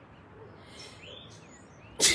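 A single sharp sneeze bursts out near the end after a quiet stretch with faint background noise.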